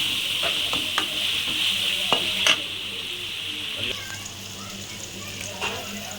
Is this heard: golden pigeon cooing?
no